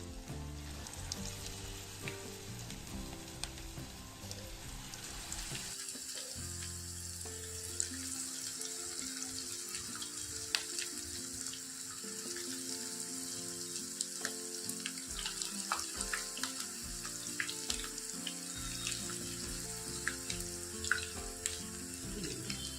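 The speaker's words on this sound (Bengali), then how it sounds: "পকোড়াগুলোকে আমরা ছেড়ে দিচ্ছি তেলের মধ্যে।" Chicken pakoras deep frying in oil over low flame, a steady bright sizzle and crackle running throughout, with occasional sharper pops and a low background hum, no talking.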